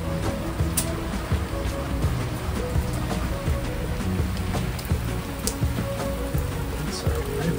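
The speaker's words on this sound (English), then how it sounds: "Rain. Yeah, it's raining." Heavy rain pours down in the Exuma Land and Sea Park, a dense, steady hiss of falling water with scattered sharper drop impacts and patters throughout, fairly loud and continuous.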